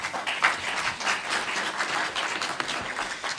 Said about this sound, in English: That's very nice words to give all the applause to me.